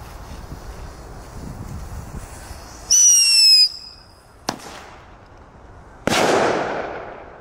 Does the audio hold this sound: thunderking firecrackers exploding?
yes